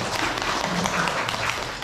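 Audience applause at a public lecture, steady dense clapping from a crowd, moderately loud and continuous throughout.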